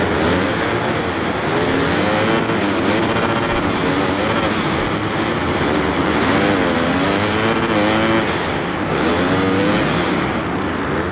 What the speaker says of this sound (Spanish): Se acelera la moto sola, tío.